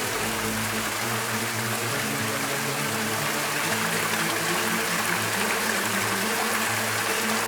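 Noveira waterfall cascading on a route of waterfalls in Spain or Portugal, a steady broadband rush of flowing water that stays continuous and fairly loud, with no voices over it.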